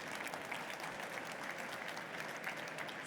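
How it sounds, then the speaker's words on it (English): An audience at a construction industry conference session gives a warm round of applause, a steady, full wash of many hands clapping that holds evenly throughout. "Give them a warm round of applause."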